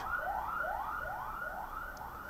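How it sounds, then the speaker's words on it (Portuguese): Ambulance siren passing along a busy street, a repeating rising whoop heard at moderate distance through a room, steady and uninterrupted with no talking. "Deixa só a ambulância passar, que me incomoda bastante."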